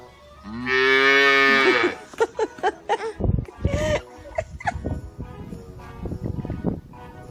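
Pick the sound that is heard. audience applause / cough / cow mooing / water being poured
cow mooing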